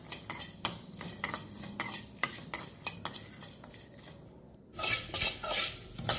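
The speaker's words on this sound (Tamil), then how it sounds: "இதெல்லாம் வாசம் வர வரைக்கும் லைட்டாக வறுத்துக்கலாம்." Dry spices rattle and scrape in a pan as they are dry roasted and stirred for mutton biryani, with quick metallic clinks and a brief louder shuffle near the end.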